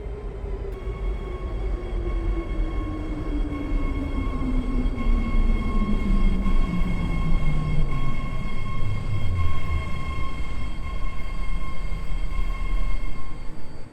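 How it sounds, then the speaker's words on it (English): A ten-car BART train on the yellow line to San Francisco Airport rolls into a platform, a loud rising rumble with a steady electric whine and a falling pitch sweep as it nears, no voices. "Ten car, yellow line, San Francisco Airport train now approaching"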